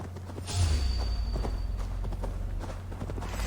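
Steady rhythmic clip-clop of horse hooves from the video game Assassin's Creed Valhalla, moderately loud and evenly paced throughout.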